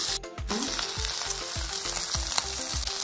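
Pieces of Indian mackerel shallow-frying in a pan, a steady loud sizzle with repeated rhythmic bubbling crackle throughout, alone without any talking.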